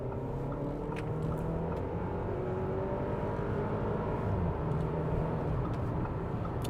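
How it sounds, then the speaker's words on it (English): A 2021 Audi Q5 engine revving hard under acceleration, a steady loud drone of engine and road noise from inside the cabin with rising tones climbing toward high revs. "So this thing really revs out."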